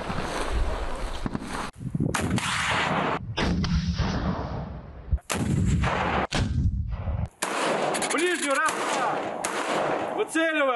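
Rifle and machine-gun fire during Russian soldier training, loud and close, in sustained bursts broken by brief pauses.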